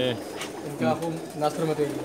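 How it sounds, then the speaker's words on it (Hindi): Pedigree pigeons bred by a fancier give low, soft coos in short rhythmic bursts close by, with someone talking over them. "अभी मैं जो आपको कबूतर दिखा रहा हूं"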